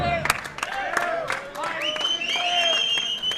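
A crowd gives scattered applause and cheers for a boxer walking to the ring at a Madison Square Garden amateur boxing tournament. Loud individual claps stand out over crowd noise and whistles, and voices chatter throughout.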